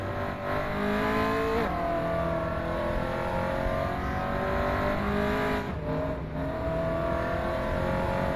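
A race car engine in the rFactor 2 sim racing game revs hard through the gears toward fifth, a loud continuous whine that climbs in pitch with brief drops at the shifts.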